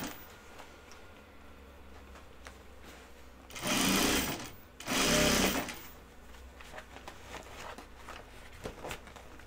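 A sewing machine stitches vinyl in two loud bursts of about a second each, separated by a short pause, with quiet room ambience and faint clicks before and after.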